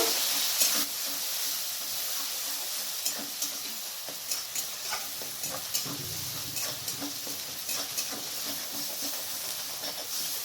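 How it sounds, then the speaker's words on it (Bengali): Chopped onions fry lightly in a pan for a Rui fish recipe, giving a steady, close hiss and sizzle with occasional soft crackles and stirring clicks throughout. "পেঁয়াজটাকে আমি এখানে হালকা করে ভেজে নেব"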